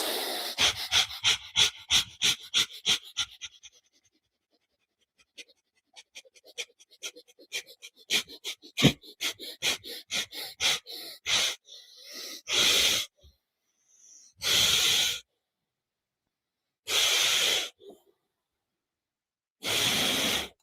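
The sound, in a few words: rapid deep breathing exercise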